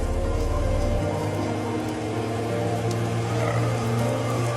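Kitchen range fan whirring steadily while chicken cooks in a skillet, a constant mid-level hum with faint tonal bands and a low thump that stops early.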